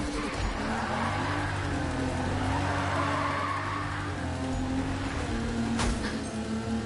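A car drifts and skids in a PS4 racing video game, its engine droning steadily with a continuous tire hiss and squeal throughout, loud and close with no talking.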